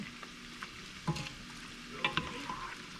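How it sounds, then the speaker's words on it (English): Broccoli stirred into an alfredo pasta sauce in a pan, heard as a quiet close sizzle with a few soft scrapes and clinks of the utensil, with no talk. "So I'm just gonna put a little bit of broccoli in there. and stir that around a little bit."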